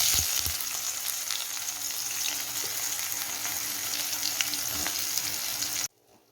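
Onion sizzling and frying in hot oil with cinnamon and cloves, a steady dense crackle with occasional stirring, close and continuous, then cutting off abruptly near the end.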